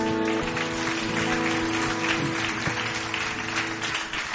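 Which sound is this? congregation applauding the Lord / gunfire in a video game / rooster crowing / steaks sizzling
congregation applauding the Lord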